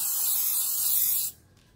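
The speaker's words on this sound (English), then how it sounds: "a little special effect spray" An aerosol can of special effect spray released in one steady, loud hiss lasting just over a second, then cut off abruptly, leaving a quiet room.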